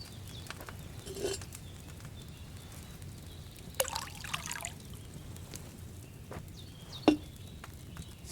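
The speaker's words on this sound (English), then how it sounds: "So, what did you pour in there? Wine, of course." Wine trickling from a pitcher into a cauldron in Kingdom Come Deliverance 2, a faint liquid dribble with a few brief clinks and knocks over a quiet room.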